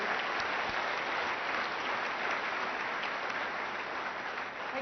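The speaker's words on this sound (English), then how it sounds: "So can everybody just give themselves a round of applause to all of our winners, all of you." Audience at a county chamber awards event applauding the winners, a dense, even wash of clapping from many hands that holds steady for several seconds with no talking over it.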